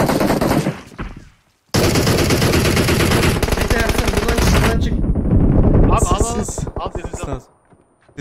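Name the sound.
gunfire in the video game PUBG Mobile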